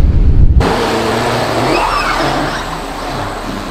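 A 1994 Mercedes-Benz 500 SL rolls into a garage hall after a sharp thump at the start, its engine a steady low rumble under faint reverberant noise.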